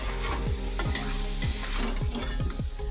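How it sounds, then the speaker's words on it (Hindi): Spices sizzle and fry in a pan for an aloo matar curry, with a spoon stirring in a steady scraping rhythm, loud and close, with no talking. "अब मैं मसाले को अच्छी तरह से फ्राई कर लेती हूँ।"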